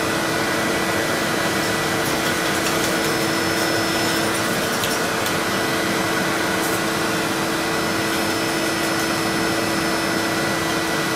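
A vacuum cleaner sucks dust from inside an 800 MHz eMac computer, a steady loud whine with rubbing and scraping noises throughout, no speech.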